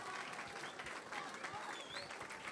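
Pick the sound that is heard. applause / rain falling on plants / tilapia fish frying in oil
applause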